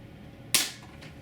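A Daisy spring air rifle, freshly oiled in its spring chamber, fires a single sharp shot through a chronograph, a crisp close crack with a short decay and a faint follow-up click.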